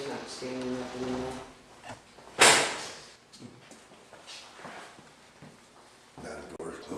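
A door is shut indoors with one sharp, brief slam partway through, amid quiet room sound and people talking.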